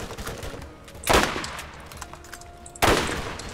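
Two sharp, loud gunshot cracks in the Borderlands video game, spaced about two seconds apart, each snapping out over low game background hum and faint tonal beeps.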